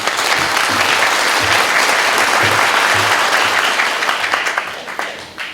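Applause welcoming a speaker to the podium at a business briefing on a national AI project: a full room claps steadily and densely, loud and continuous, then thins out slightly toward the end.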